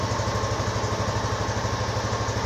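A motorcycle engine runs steadily with an even, fast pulsing throb, close and moderately loud, while its weak dry battery charges; no voices are heard.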